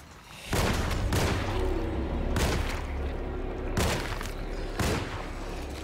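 Gunshots fired in the 2024 Alone in the Dark remake, four loud, sharp blasts spaced about a second and a half apart, each ringing into a dense rumbling tail.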